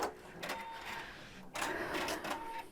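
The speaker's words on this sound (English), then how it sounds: "the next two colours will stitch out without stopping in between" A home embroidery machine stitches out consecutive thread colours without pausing, giving a steady close mechanical whirr with repeated rhythmic needle bursts throughout.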